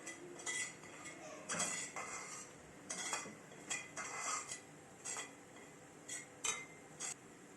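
Semolina roasting in butter in a pan, heard as a rhythmic series of metallic scrapes and clinks from a spoon stirring against the pan, fairly quiet, with no one speaking.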